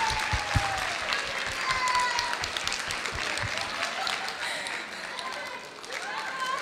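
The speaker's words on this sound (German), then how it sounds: "Und nochmal einen Applaus fürs Publikum" Applause from an anime convention audience, a sustained wash of clapping with some louder nearby claps and faint voices and whistle-like tones mixed in, gradually easing toward the end.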